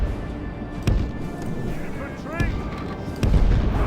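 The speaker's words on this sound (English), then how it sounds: "Cannons are firing away." Cannons firing during a Medieval II Total War: Britannia battle, heard as several sharp booms spread across the moment, with a louder blast near the end over a continuous battlefield din and someone talking.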